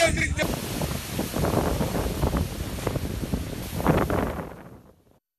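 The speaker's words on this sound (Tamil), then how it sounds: "தூத்துக்குடி மன்னார் வளைகுடா கடல் பகுதியில் பலத்த காற்று வீசி வருவதால் அலைகளின் சீற்றம் அதிகமாக உள்ளது" Strong wind batters the Gulf of Mannar coast at Thoothukudi while rough sea waves crash, making a continuous roaring, gusting rush of wind and surf that fades away at the end.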